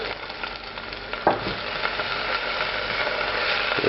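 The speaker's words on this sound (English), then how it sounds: "I'm going to add the garlic and the ginger to this." Sliced garlic and ginger frying in a pan for Korean BBQ salmon give off a steady close sizzle and crackle, with a brief stirring knock partway through and no talking.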